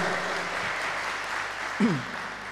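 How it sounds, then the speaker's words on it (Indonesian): A crowd claps steadily at a student council inauguration at UIN Ar-Raniry, a sustained wash of applause with a brief voice rising over it near the end. "Beri tepuk tangan yang meriah untuk Bapak Wakil Dekan 3."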